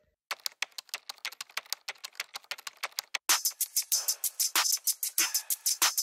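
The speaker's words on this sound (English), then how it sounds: "One of them is a keyboard typing" Computer keyboard typing plays as a hi-hat sample in a music beat: rapid, crisp clicks in a steady rhythm, turning louder and fuller halfway through, with no voices.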